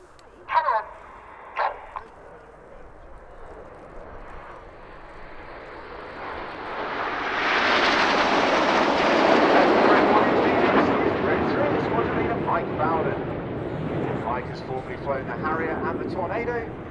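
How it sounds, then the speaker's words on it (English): Red Arrows jets in a formation display at RIAT 2019 roar past, building from a distant rumble to a loud broad whoosh mid-clip before fading, beneath continuous public-address commentary with a couple of sharp bangs early on. "The aircraft now have moved into one of our most technically difficult formations with six aircraft, all in line abreast"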